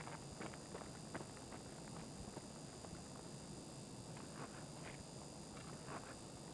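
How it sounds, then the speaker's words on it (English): Scav footsteps moving nearby in Escape from Tarkov, a faint irregular series of soft steps and clunks over a steady hiss of background ambience. "It sounds like scav movement."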